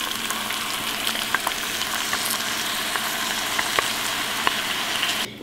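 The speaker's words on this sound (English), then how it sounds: "I'm going to pull the sauce together so it can simmer for a few minutes" Spaghetti sauce simmering in a pan gives a steady, close sizzling hiss with scattered small pops and bubbles, no voices present.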